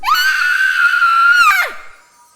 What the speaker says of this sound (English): a scream rang out, echoing against the walls and startling the two mares